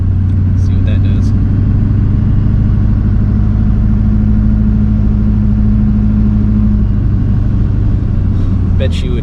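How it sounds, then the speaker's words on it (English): A GMC/Chevy pickup truck, fitted with load-adjusting shocks and airbags, speeds up on the road with a loud, steady engine drone and rising cabin rumble, while a voice speaks over it. "I'm gonna go take us up to speed here"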